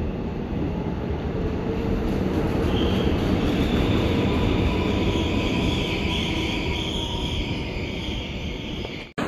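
A passenger train rumbles past at close range near Cheongnyangni Station, loud and steady with clattering wheels and a rushing roar, then cuts off abruptly at the end.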